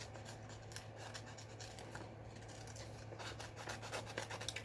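Scissors snip around paper for a handmade card in a quiet, steady series of soft cuts and rustles close to the microphone, with no voice and a low hum running underneath.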